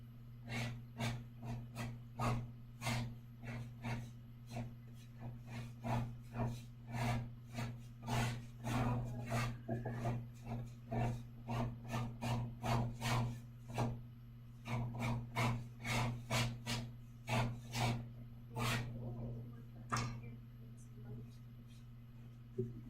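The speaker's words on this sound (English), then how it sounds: "Do you hear that? That's my dry brush." Dry paintbrush scraping across a painting surface during an art demo, a quiet, rhythmic series of rough rasping strokes repeating steadily over a low background hum.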